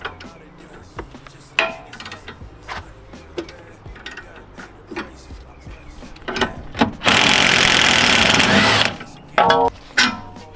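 An impact or power tool loosens a strut bolt on an MK7 GTI, giving a loud sustained whirring burst of about two seconds in a garage, followed by short clanks and mechanical handling noises.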